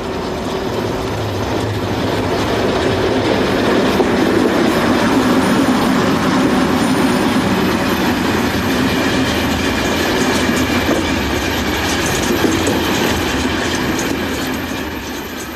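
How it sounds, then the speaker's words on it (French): A fast train passes on the Paris–Dijon railway line near Montgeron, a steady loud roar of wheels and rolling stock with rhythmic clatter throughout, close and continuous with no voices. "Sur voie 2 rapide, se présente une rame dite de la Grande Couronne, en provenance de La Roche."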